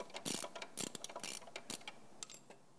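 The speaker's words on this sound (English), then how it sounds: "I get the 13 on there, and then I can just finish taking this nylock off" A 13 mm wrench works a nylock nut off a motorcycle suspension pivot bolt, giving a run of quick, close metallic ratcheting clicks in uneven bursts with no talk.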